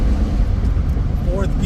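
A 1984 Dodge Rampage 2.2 sport truck with a 5-speed overdrive manual, driving and moving through its gears, giving a loud, steady low engine and road rumble from inside the cab, with a brief faint squeak near the end.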